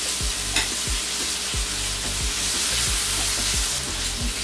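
Meat stir-fries and sizzles in a hot pan for Lao and Korean inspired fried rice, a steady loud hiss punctuated by regular scraping strokes of a spatula, close up with no talking.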